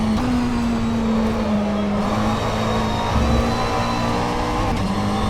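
A mid-engine GT3 race car in the rFactor 2 sim racing game drones at a steady, loud pitch that shifts slightly as the revs change, continuous for several seconds with no speech.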